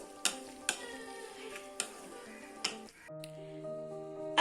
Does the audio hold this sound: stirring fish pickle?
yes